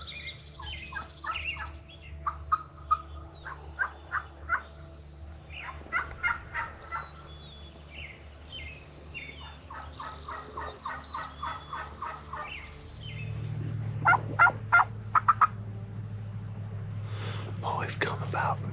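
Wild turkeys gobble during a spring turkey hunt, rattling bursts repeating at moderate distance from over a horizon, mixed with soft whispered talk and a lower rumble near the end.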